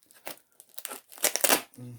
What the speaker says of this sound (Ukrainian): тут скотчем трошки намотав